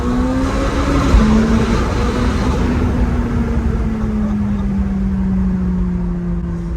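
A stage 1 track-prepped McLaren 570 GT engine droning loud and close inside a small tunnel, its booming resonance holding steady with a slight rise and fall in pitch throughout.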